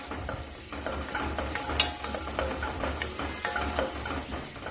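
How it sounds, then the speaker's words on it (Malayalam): Chopped onion and garlic stir-fried in oil for a minestrone vegetable soup: a constant soft sizzle, with irregular spoon scrapes and light clicks against the pan, nearby and fairly quiet, with no voices. "ഇതിന്റെ കൂടെ തന്നെ 1 ടീസ്പൂൺ വെളുത്തുള്ളി ചെറുതായി മുറിച്ച് ചേർക്കാം. ഇത് ഇളക്കി വഴറ്റാം."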